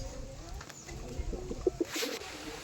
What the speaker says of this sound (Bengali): মাদি পায়রাটা